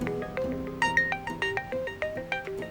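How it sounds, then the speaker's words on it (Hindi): A phone in a Turkish drama plays a melodic ringtone, a bright run of plinking electronic notes repeating in a steady rhythm, fairly close and clear with no talk over it. "क्या गार्ड्स का फोन है?"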